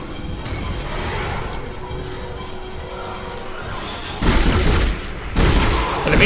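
Gunfire from a weapon in the PC game Dead Space: a couple of loud, sharp bursts near the end, following a stretch of murky low-level game ambience.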